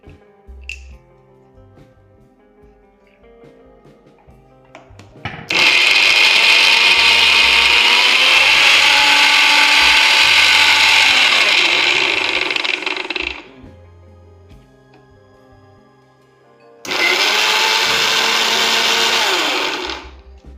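Mixer grinder whirring loudly as it grinds coconut pieces with a little water, running about eight seconds, pausing, then starting again for a second burst, close and steady.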